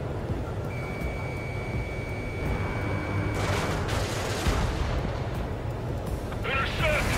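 Anti-aircraft guns fire in Ace Combat 7 in a steady, continuous barrage of dull booms under the roar of the battle, growing denser partway through.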